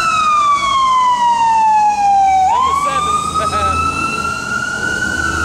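Emergency vehicle siren, loud and close, a descending wail that dips and then rises again in a long sweeping tone over steady street noise.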